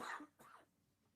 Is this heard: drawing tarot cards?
no